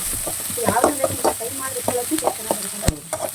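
Garlic and ginger frying in a pan for a Mangalore-style patrode dish, a close sizzle with stirring scrapes and clinks of a utensil against the pan, plus a sharp knock near the end.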